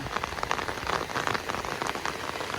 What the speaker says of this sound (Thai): ฝนมันตกซ้ำนี่ค่ะ